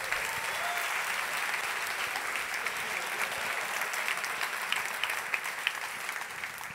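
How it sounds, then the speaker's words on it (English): Loud, sustained applause rises from a conference keynote audience, a dense even wash of many hands clapping that continues steadily from start to finish with no voices on top. "Give her one more round of applause, everybody."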